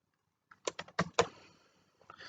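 A short burst of about half a dozen crisp keystrokes on a computer keyboard while typing a Facebook group post, close and quiet, with a brief pause and a couple more taps at the end.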